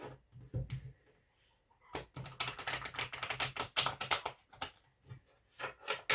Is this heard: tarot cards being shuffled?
yes